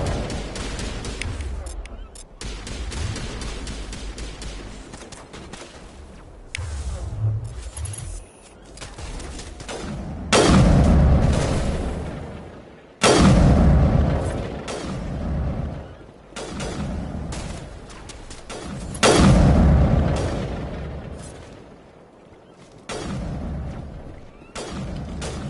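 Sustained gunfire and heavy booming blasts of a crossfire battle in Mass Effect 1 Legendary Edition, coming in loud bursts that swell and fade over a steady rumble of combat, with talk over parts of it.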